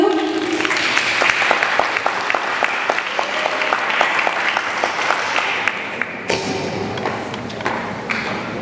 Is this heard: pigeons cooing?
no